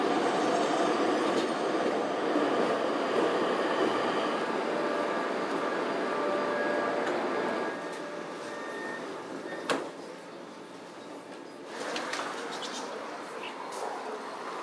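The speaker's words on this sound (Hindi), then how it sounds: "देखो यहाँ का मेट्रो कैसा लग रहा है किसी केव के अंदर जा रहे हो" A Rio de Janeiro metro train runs through a tunnel with a loud, steady roaring rumble, a sharp clank partway through and a brief rise in wheel noise near the end.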